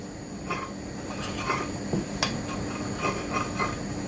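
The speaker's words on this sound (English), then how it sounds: "using a teaspoon, just mix them around" A teaspoon stirs chicken pieces through a breadcrumb mix in a bowl, giving soft scraping and a few light clinks against the dish under a faint background hiss.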